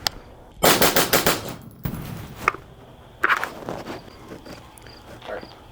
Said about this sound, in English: we're just going to shoot 5 rapid rounds just to kind of see what that looks like and what that sounds like in the flow